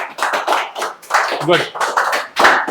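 Classroom students clapping in quick uneven bursts, close and loud, with a teacher's voice speaking between them.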